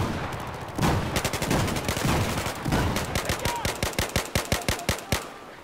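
Rapid bursts of video-game machine-gun fire crackle loudly and continuously, shifting into a clear run of evenly spaced single shots near the end.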